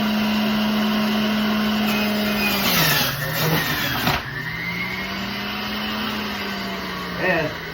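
Electric juicer grinding black onion and celery, a steady motor hum that dips in pitch as produce is pushed in, with grinding bursts mid-clip and a brief rise near the end, no talking.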